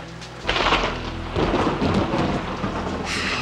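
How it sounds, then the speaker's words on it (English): Thunder rumbles loudly over steady heavy rain in a thunderstorm, a quiet opening giving way to a broad roaring wash with a second swell near the end, heard alone with no voices. "Can you believe this storm?"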